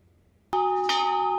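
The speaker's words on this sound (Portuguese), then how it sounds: "O toque de um sino no norte da Ucrânia deu início a uma série de cerimônias" A bell tolls to open ceremonies in northern Ukraine marking 40 years since the Chernobyl nuclear disaster. After a short silence, two clear strikes land close together, and each leaves a bright ringing tone that hangs on and slowly fades.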